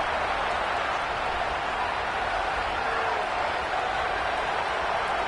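An Auburn football stadium crowd roars on third down as a broad, constant wall of noise, with play-by-play commentary faintly under it.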